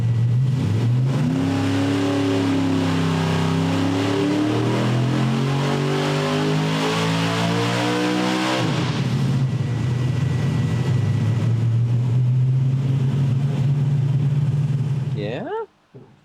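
A 540 cubic inch big block Chevy street/strip engine revs hard on a dyno, its loud pitch sweeping upward for about eight seconds, then holding a steady high roar before cutting off abruptly near the end.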